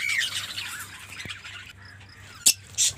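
A pair of Fischer's lovebirds in a cage give two sharp squawks near the end, after a stretch of faint background chatter and a low steady hum.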